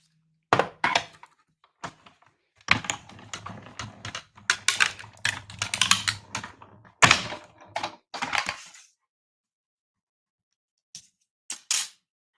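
A die cutting machine cuts card stock for a Christmas tree card, giving a run of close clicking and thunking bursts for several seconds, then quiet with a couple of short knocks near the end.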